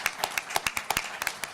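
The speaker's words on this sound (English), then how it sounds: "I feel like we should give Paula a round of applause" A live audience claps for a member of an oncology care team at a patient and caregiver symposium panel, a brief patter of scattered, uneven hand claps at close range with no talking.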